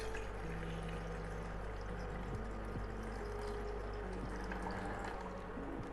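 Water poured steadily into a pot for a herbal kashayam drink, a faint continuous splashing trickle over a low hum.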